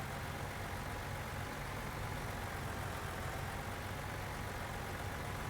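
A tractor engine idles steadily in Farming Simulator 19, a constant low mechanical hum with broadband rumble that holds evenly throughout, with no talking.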